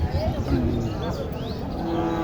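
A small local deshi cow moos repeatedly at a busy cattle market in Naogaon, its drawn-out calls rising over crowd noise and nearby voices.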